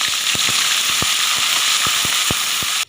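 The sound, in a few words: grated onion frying in oil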